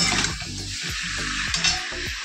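Chicken pieces frying in oil in a pan after potatoes were fried, a loud steady sizzle with a few low scraping stirs across the pan, close and without talk.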